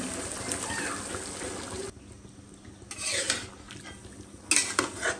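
Potatoes are added to meat in a cooking pot and stirred, giving scraping and clattering against the metal and a soft sizzle, in busy bursts with a quieter stretch in the middle and no talking.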